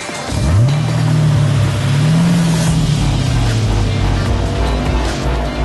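A Holden VF Commodore, the final Australian-built model, runs with a steady mid-pitched engine drone that rises and holds over several seconds, loud and close with no talk.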